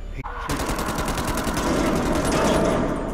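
Rapid automatic gunfire from a weapon in The Dark Pictures Anthology: Man of Medan video game, a dense sustained burst that starts after a brief pause and keeps up loudly to the end.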